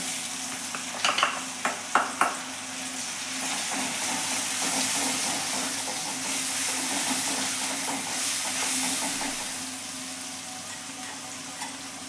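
Chopped onion sizzles and fries steadily in a hot pan of oil while cooking green pea curry, with a few stirring clatters near the start and a continuous bright hiss throughout.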